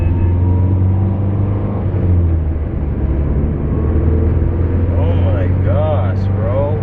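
Heard from inside the cabin of a Mazdaspeed3 with new motor mounts, a steady engine drone and whine fills the car loudly and continuously.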